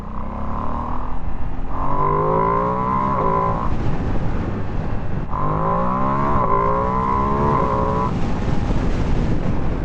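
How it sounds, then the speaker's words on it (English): A 2025 Ducati Streetfighter V2S motorcycle with its stock exhaust, ridden at speed. It gives a steady loud engine drone with rising and falling revs through gear changes, alone without talk. "for stock exhaust, this thing sounds great"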